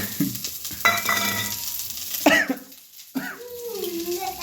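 Onions and chillies sizzle steadily in a pan for upma while being stirred, and a sharp cough breaks in partway through.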